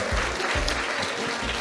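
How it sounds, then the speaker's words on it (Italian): Loud, dense audience applause at an Italian student journalism event, steady clapping from a sizeable crowd filling the whole short stretch. "Un applauso anche a Renzi Ferri"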